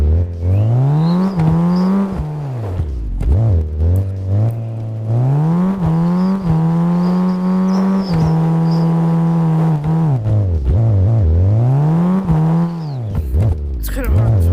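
A video game car engine revs repeatedly, its pitch sweeping up and holding then dropping in several long cycles, loud and upfront, with some voices nearby.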